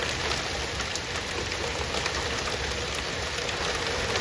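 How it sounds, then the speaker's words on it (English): Hail falls steadily on a roof during a summer storm, a dense, continuous patter of ice bouncing off the surface, fairly loud and close with no voices. "There's hail coming down, bouncing off the roof over there."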